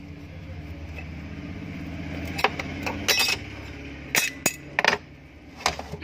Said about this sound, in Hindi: अभी एक बार क्लच को भी खोल के देख लेते हैं